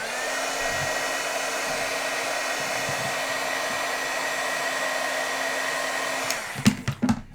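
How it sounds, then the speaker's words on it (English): A heat tool blows steadily and loudly for about six seconds to set ink on a handmade card, then cuts off, followed by a few short clattering knocks. "let me heat set this"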